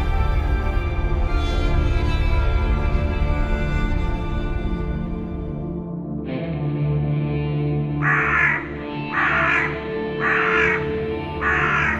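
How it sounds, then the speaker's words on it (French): A crow caws four times in a regular series, fairly close and loud, following a rich sustained drone that fades out, at a Viking-themed event at Rochemaure; no one speaks. "Le corbeau."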